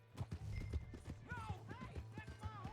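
Horse hooves in the video game Red Dead Redemption 2, a run of quick irregular clip-clops mixed with creaks and snorting, moderately close and fairly quiet.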